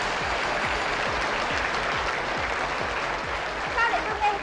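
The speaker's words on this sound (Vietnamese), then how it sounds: "Sao lại tôi nghe tiếng các bạn ở dưới vỗ tay nhỉ?" Studio audience at a Hanoi TV picture-guessing quiz game show applauds steadily throughout, a dense close clatter of claps with a few louder bursts near the end.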